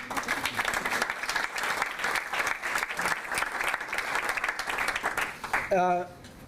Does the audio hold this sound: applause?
yes